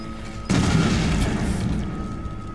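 A bomb detonates in Resident Evil 7, a sudden loud boom that hits hard and then rumbles on in a long, slowly fading roar.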